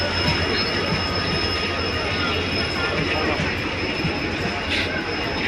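A passenger train at a crowded station rumbles continuously with loud, close wheel noise and a high squeal running throughout, and voices may be mixed in beneath it.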